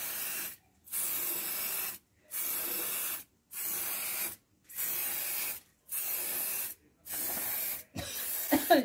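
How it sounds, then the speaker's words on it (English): An aerosol can sprays around a muffin pan in seven or eight steady hissing bursts of about a second each, close and even, with short gaps between and a slight clatter at the end. "And then spray around."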